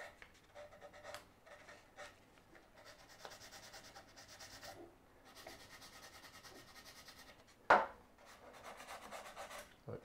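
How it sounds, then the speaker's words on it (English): A small wooden trinket box is lightly sanded with 240-grit sandpaper, giving soft, close rubbing strokes in short repeated passes, quiet overall, with one brief louder scrape near the end. "So when I'm doing, just give it a light sand"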